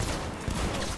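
Rapid gunfire bursts from a shotgun in the video game Cyberpunk 2077, a dense, loud clatter of shots filling the whole second without pause.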